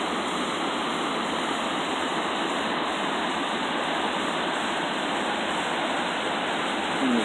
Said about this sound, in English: Here's another cascade for you.